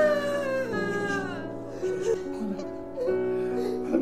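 A newborn baby cries in a steady, continuous wail with rising and falling pitch, loud and close, set over a soft musical background with no talk.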